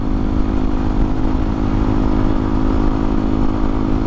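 A Honda CRF250L dual sport motorcycle rides along back roads, its single-cylinder engine droning steadily and loudly under wind rumble, with no speech.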